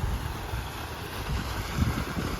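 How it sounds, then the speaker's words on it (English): Water flows along a downtown Augusta riverfront, a steady broadband rush with wind buffeting the microphone and a faint low rumble throughout, continuous and fairly loud with no talking. "I could just sit here and just listen to the water for a few minutes."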